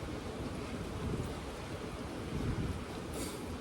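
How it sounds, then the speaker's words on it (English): Strong wind on the Moray Firth coast buffets the microphone in a constant loud roar, gusting stronger at moments, with no voices. "you don't believe how windy it's got"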